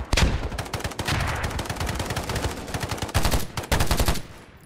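Heavy automatic gunfire in DayZ rattles in long, fast bursts with brief gaps, loud and near, trailing off at the end; no speech over the shooting.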